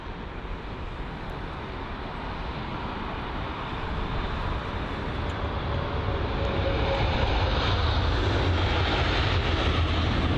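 A Boeing 777 arriving at London Heathrow after a flight from Mumbai gives a loud, continuous jet engine roar that swells steadily as it draws closer, with no talking.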